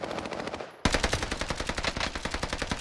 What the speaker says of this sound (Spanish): Se están disparando ya, madre.